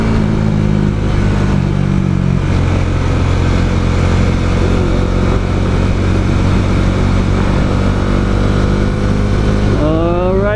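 A Bajaj Dominar 400 naked motorcycle pulling under steady throttle on a high-speed run, its engine droning loudly under heavy wind rush, then revving up sharply near the end.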